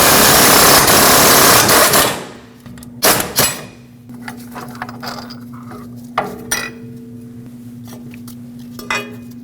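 A hydraulic ball joint press pushes a ball joint out of a Nissan Frontier's control arm, starting with a loud sustained hiss, then a steady hum with scattered metallic clicks and knocks.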